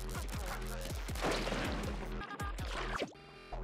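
Ink weapons firing at the Octo Stomp boss in Splatoon 2, rapid bursts of shots and thwacking impacts over game music, loud and busy, ending in a short electronic flourish.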